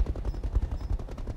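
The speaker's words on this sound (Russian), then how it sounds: "Ну и пытаемся стрелять." Rapid weapon fire in the Roguetech mech game, a quick rattling burst of repeated shots, loud and dense for just over a second without speech.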